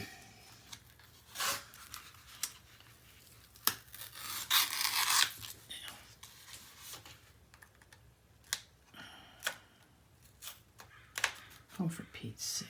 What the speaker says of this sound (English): And now I'll remove the rest of the paper, the tape.